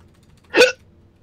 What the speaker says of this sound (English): Oh, I'm getting hiccups behind me.